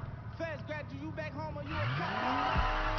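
An all-wheel-drive car in the video game Need for Speed Heat launches with a burnout: a voice talks first, then a loud engine roar climbs in pitch over screeching, skidding tires that hold steady to the end.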